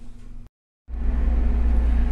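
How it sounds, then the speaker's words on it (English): A home heater system runs steadily in the background as a continuous low rumbling hum, briefly cut to silence before resuming at a fuller, louder drone. "My heater system's going right now."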